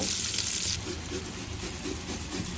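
Meat frying in hot oil in a pan, a continuous bright sizzle with a stronger hiss at the start, steady and close.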